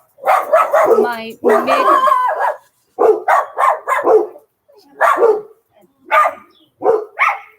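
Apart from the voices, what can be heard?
dogs barking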